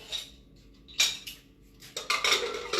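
A metal lid goes onto a pot of boiled dal in a home kitchen, giving two sharp clinks with a short clatter and a second rattle, fairly close and with no talk.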